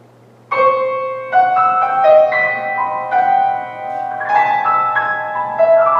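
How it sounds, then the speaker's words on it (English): Dissonant orchestral passage with clashing sustained tones entering together and shifting in overlapping bell-like layers, played loud and close over a low steady hum, with no talking. "some orchestral pieces that I'm familiar with that have that really dissonant sound"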